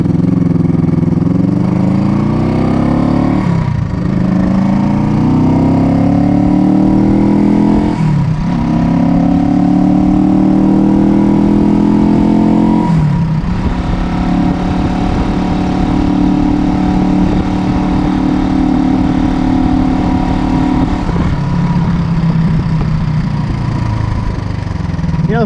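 Vintage motorcycles, a Triumph and Harleys, run loud and close, their engines rumbling steadily with several revving surges and drops in pitch, a continuous mechanical roar with no talk.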